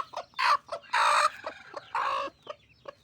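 Hens and a rooster in a backyard chicken coop cluck in repeated loud bursts, a few longer squawking calls mixed with shorter clucks, close by with no talking.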